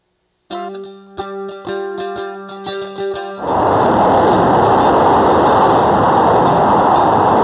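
A played-back recording of a rocket engine during a test flight: a few seconds of tonal, ringing intro sounds give way to a sudden, sustained loud roar that holds steady to the end.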